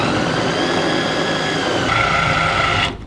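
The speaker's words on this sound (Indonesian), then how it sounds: "Menggunakan electric chopper dari Idealife." An Idealife electric chopper whirs loudly while grinding sugar, pepper, stock powder and salt, a steady high motor hum that shifts pitch midway and cuts off abruptly near the end.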